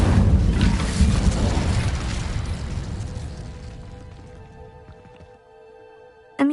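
A fire spell cast in Hogwarts Legacy, heard as a loud whooshing burst of flame that blooms and slowly fades over several seconds, leaving a quiet ambient hum and a short sharp sound at the very end.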